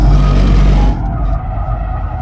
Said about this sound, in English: Let's see if the M5 can even slide with all-wheel drive.